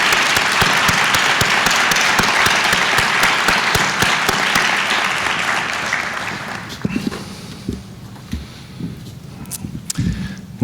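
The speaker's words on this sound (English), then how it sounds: "So let's have a round of applause for Helen." A conference audience breaks into loud, sustained applause that fades away after about six seconds, leaving a few scattered claps and room noise.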